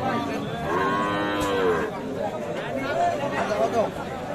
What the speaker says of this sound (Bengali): শাহিওয়াল জাতের যে গাভী গরুগুলো বিক্রি হচ্ছে